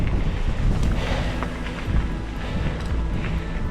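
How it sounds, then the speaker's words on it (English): Strong headwind buffets the microphone while cycling outdoors, a loud, steady rumbling roar with gusty swells and no speech. "a big time headwind."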